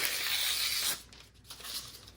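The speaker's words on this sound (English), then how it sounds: "I always just tear a piece off." Siliconized protective paper being torn by hand, a loud close rip lasting about a second, followed by quieter rustling and handling of the sheet.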